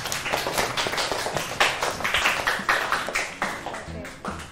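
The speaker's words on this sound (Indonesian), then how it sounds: "Beri tepuk tangan buat Kara." A group of elementary school pupils in a classroom claps for a classmate, a dense and lively round of applause lasting a few seconds, with faint voices mixed in.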